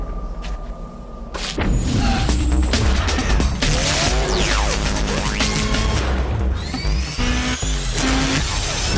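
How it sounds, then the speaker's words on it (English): A 265-horsepower Nissan Maxima drives hard with a loud engine roar, squealing tires and sweeping pitch changes, plus occasional thumps and booms in a busy, dense mix. "The 265 horsepower Nissan Maxima."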